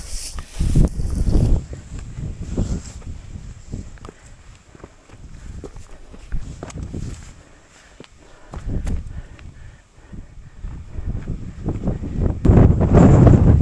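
Strong, cold wind buffets the microphone in deep, uneven gusts on the mountain ridge of Tarak Ridge, with footsteps crunching along beneath it.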